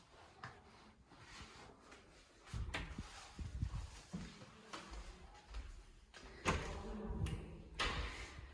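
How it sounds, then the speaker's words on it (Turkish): Door of a home opened by a young girl, with a faint latch click and rattle followed by shuffling and knocking, and soft household noise around it. "Açayım mı kapıyı?"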